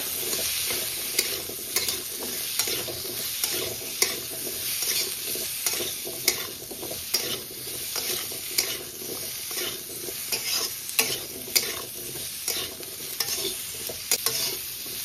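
Papaya pieces being stirred with oil, turmeric and salt in a pan, giving a continuous oily sizzle with repeated scraping and tapping strokes of the spoon, close and steady with no talking.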